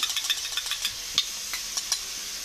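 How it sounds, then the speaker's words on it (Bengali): Beaten sour yogurt goes into a pan of frying rohu fish curry, giving a steady sizzle with quick stirring scrapes and light metallic taps throughout. "কমিয়ে দিয়ে টক দইটা দিয়ে দেবো।"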